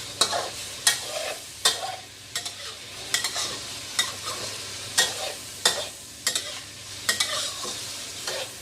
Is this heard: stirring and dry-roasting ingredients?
yes